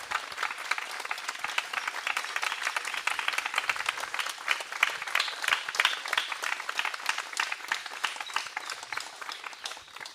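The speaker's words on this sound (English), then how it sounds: "And a big round of applause." Applause from an audience at a devotional bhajan gathering, dense and steady for about ten seconds at moderate distance, with a faint voice or two underneath.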